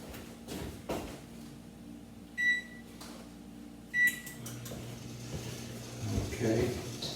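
An oven control panel gives two short, sharp beeps as the temperature is set, heard over quiet kitchen noise with a voice talking softly between them.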